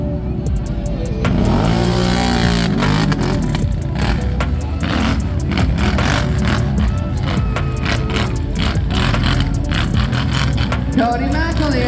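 ATV engines revving hard with wheels spinning at the 2025 North Mountain Millings ATV competition, a loud continuous roar with surging throttle and crowd and announcer noise mixed in throughout.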